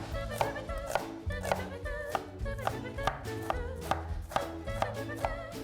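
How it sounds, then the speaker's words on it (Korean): An onion chopped with a knife on a cutting board, a quick, even rhythm of close, crisp knife strikes over background music. "그리고 양파 썰어 보도록 할게요."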